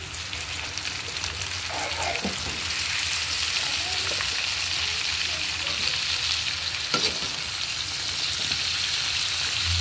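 String beans frying for adobong sitaw in a pan with meat sizzle steadily and hiss loudly throughout, with a few faint clinks of stirring.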